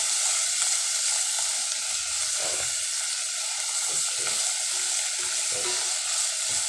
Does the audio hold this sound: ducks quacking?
no